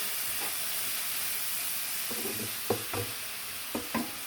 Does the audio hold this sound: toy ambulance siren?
no